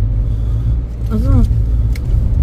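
A BMW 320d E90 xDrive car driving, heard as a steady low engine and road rumble from inside the cabin, with a brief voice over it.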